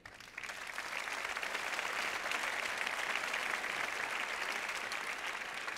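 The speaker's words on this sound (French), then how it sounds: "Vous pouvez vous applaudir." Audience applause at a business awards ceremony, the Trophée de la TPE at a company celebration: sustained, dense clapping from a large indoor crowd that swells in quickly and holds steady, near and loud.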